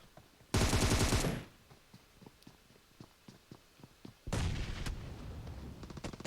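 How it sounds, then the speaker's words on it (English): Grenades explode in a PUBG Mobile scrim match: two loud, sustained blasts a few seconds apart, with a string of faint sharp gunshot-like pops between them. "So grenades flying out and about"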